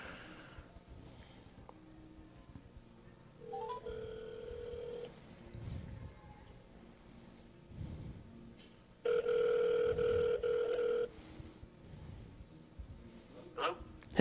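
A phone line rings twice through a speaker, each ring a steady electronic tone, with quiet background rustling and a brief voice near the end.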